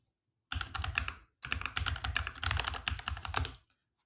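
A password being typed on a computer keyboard: two quick bursts of close, crisp keystrokes separated by a short pause, with no other sound.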